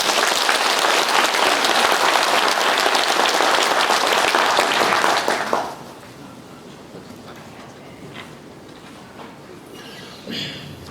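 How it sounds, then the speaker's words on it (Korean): Hearty applause from a lecture audience welcomes a speaker onto the stage, dense and loud for about five seconds before stopping abruptly, followed by quiet room noise and scattered faint sounds. "여러분 큰 박수로 맞아주십시오"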